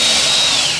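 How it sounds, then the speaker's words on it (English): A power drill bores holes into 3D-printed wood PLA L brackets, a loud, close, high whining burst that lasts under a second. "lined everything up to drill the holes"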